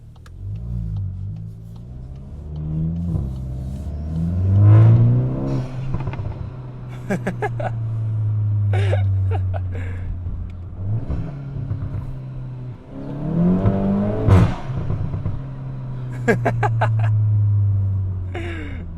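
A VW Golf GTI MK8.5 fitted with a CTS cold air intake revs loudly in sports mode, its engine note repeatedly rising and falling in strong surges heard from inside the car.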